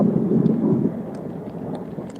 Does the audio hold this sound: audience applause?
no